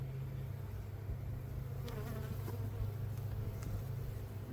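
Honeybees at an open hive in an apiary hum in a steady, continuous drone, with individual bees occasionally buzzing past more loudly, the whole swarm sound soft and even throughout.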